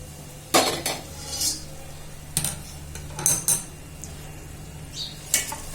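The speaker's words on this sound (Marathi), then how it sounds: "आता गॅस बंद करायचा आणि ही फोडणी ह्याच्यावर ओतायची या चिरमुऱ्यांवर ओतायची" Hot spice tempering is poured from a heavy pan onto puffed rice, with several loud metallic clanks and scrapes of the pan and spoon spaced irregularly over a quiet background.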